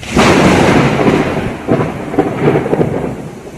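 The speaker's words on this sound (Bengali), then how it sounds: "কি বিশাল জোর একটা বাজ পড়লো" A loud, close thunderclap rumbles through heavy rain and strong wind, booming and rolling with a second surge partway through, then fading under the steady downpour.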